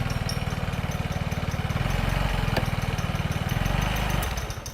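A motorcycle engine runs unevenly at idle, its close, steady low thrum broken by stumbles and faltering beats, with a brief dip in the middle and a fade near the end.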